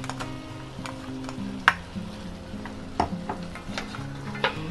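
Onions sizzling steadily and low in a pan, with occasional stirring scrapes and light clinks of a utensil against the pan, no voices.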